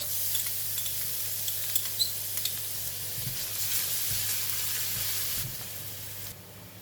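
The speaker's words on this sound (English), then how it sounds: "Then I'm going to put in the garlic." Garlic sizzling in about two tablespoons of hot cooking oil in a pan, a steady soft hiss with occasional stirring scrapes, close and moderately quiet.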